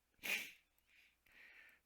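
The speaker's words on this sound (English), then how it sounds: "Sorry for the sniffing, guys." Several sharp nasal sniffs close to the microphone, a strong one followed by two softer, longer intakes in a quiet indoor room.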